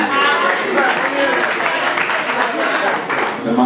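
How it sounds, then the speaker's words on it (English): Audience applause at an airport project inspection event for Emeka Kalu, a steady dense wash of many hands clapping, loud and close, continuing for several seconds with a speaking voice mixed in. "Please clap for him."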